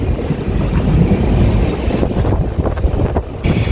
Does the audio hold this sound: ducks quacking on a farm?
no